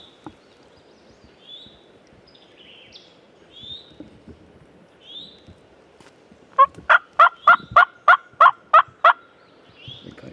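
Wild turkeys in turkey season: a fast burst of about nine loud, rhythmic gobbles rings out in the middle, with softer scattered bird calls before and after in an otherwise quiet outdoor setting.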